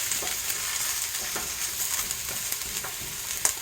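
Cabbage cooking down in a pan with a steady broadband sizzle, punctuated by occasional soft scrapes and clicks from stirring, with a brief sharper clink near the end; no one speaks.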